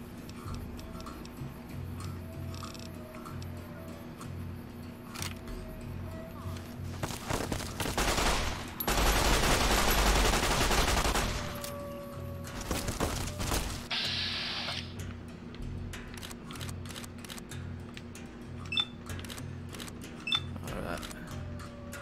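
Scattered shots and a dense burst of automatic gunfire ring out in Fallout: New Vegas, mixed with sharp clicks and ticks, while players chat and laugh over the fighting.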